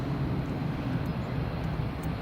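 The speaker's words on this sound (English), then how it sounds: "Max is just taxiing past there." A Max jet taxiing past at Edinburgh Airport, a steady broad engine rumble and roar holding at constant loudness, moderately distant, with no talk.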